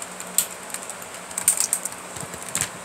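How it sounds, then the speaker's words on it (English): Small clicks from a Transformers Animated Voyager Class Bulkhead toy being clicked into its transformation, a few brief ticks around a second and a half, close and faint, with no talk. "if you give it a good click, there's the transformation sound."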